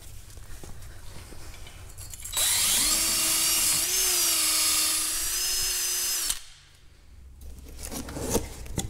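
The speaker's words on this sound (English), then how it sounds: "just take your wire wheel on your drill and go around and get that cleaned up" A wire wheel on a power drill scrubs the brake hub face of a 2012 Subaru Forester, giving a loud, steady whirring grind for about four seconds. Quieter workshop noise comes before and after it.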